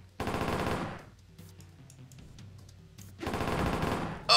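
Enemies in the Ronin game fire guns in two rapid, rattling bursts about a second long each, separated by a quieter stretch of faint clicks and game noise.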